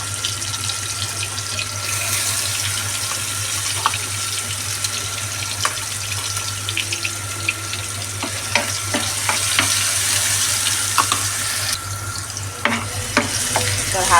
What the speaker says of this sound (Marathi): तेल आपलं गरम झालेलं आहे. तर हा आपण मसाला त्याच्यामध्ये मिक्स करून घेऊया.